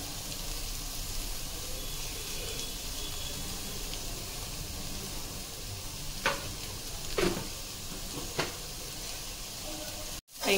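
Green beans sizzling with masala in a pan, a soft continuous frying hiss with a few brief stirring scrapes near the end, no talking.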